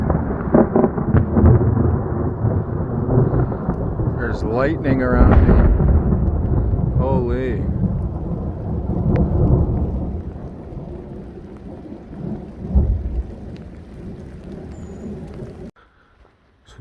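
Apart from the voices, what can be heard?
thunderstorm with thunder and rain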